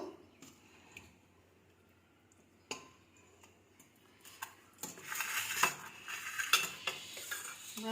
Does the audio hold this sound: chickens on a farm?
no